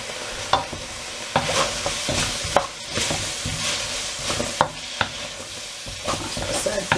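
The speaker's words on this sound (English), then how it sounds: "the water chestnuts and bamboo shoots, and we're just going to give those just a very light cooking through" Water chestnuts and bamboo shoots stir-fry in a hot pan, a constant loud sizzle punctuated by regular scraping strokes and clacks of a utensil against the pan, close up, with no talking.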